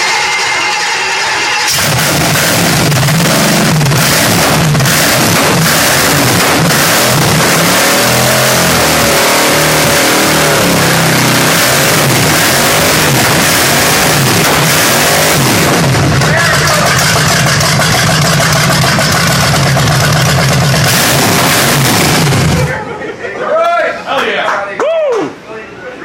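A car engine fires up after a remote start from a phone and revs hard, a loud, sustained roar that holds for about twenty seconds before it cuts out. Excited voices follow right after.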